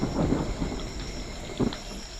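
Thunder rumbles low and distant during a lightning storm, over a steady wash of rain, with no voices.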